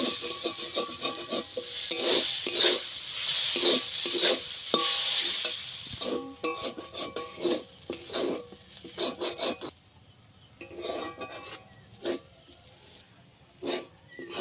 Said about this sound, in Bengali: ভালোভাবে পেঁয়াজ আলু মশলা একসঙ্গে ভালোভাবে ভেজে নিয়েছি